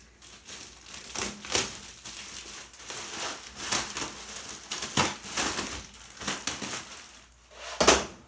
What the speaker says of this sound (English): I guess the easiest way to get the plastic off is just to cut it.